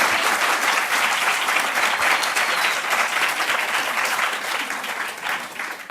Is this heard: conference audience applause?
yes